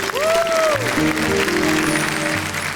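An audience at the Hindi comedy-poetry show Wah Wah Kya Baat Hai breaks into loud, dense clapping that is sustained across the whole moment, with a voice sounding over the applause.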